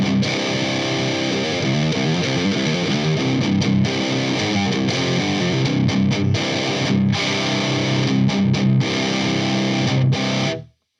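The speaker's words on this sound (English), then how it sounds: "I've set up the amp and I've got a nice distortion tone coming out of it." Heavy electric guitar played through an amp with a distortion tone and captured by a microphone, sustained chugging riffs and crunchy chords throughout, loud and up close, then cut off abruptly at the end.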